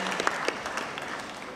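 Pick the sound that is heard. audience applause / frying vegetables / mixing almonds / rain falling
audience applause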